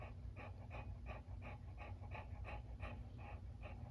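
A dog pants steadily in a quick, even rhythm of short breaths, soft and close, with faint whimpering mixed in, in a hot Florida house.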